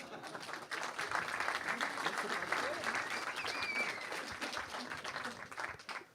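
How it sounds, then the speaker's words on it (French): An audience at an anniversary opening ceremony for a university sports science faculty breaks into sustained applause, a full crowd of clapping hands that holds steady for several seconds, recorded at a distance. "Ça mérite des applaudissements."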